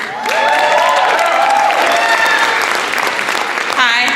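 A packed crowd at a student talent showcase bursts into loud, sustained applause with cheers and whoops, the clapping dense and continuous for several seconds before a brief voice cuts in near the end.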